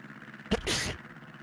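A single sharp sneeze bursts out near the microphone, with a quick inhale and then a loud explosive release, against quiet background.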